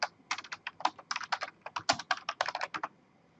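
A computer keyboard clatters under quick typing, a fast run of close, crisp keystrokes in uneven bursts before stopping, with no talk.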